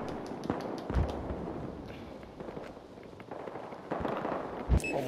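Several sharp gunshot bangs in Battlefield Hardline online play, scattered over a steady background of in-game noise, with a louder burst near the end.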